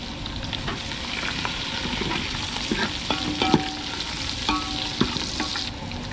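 Garlic and green chillies sizzling in hot oil for a tadka, a steady crackling fry with scattered pops and spoon scrapes close by.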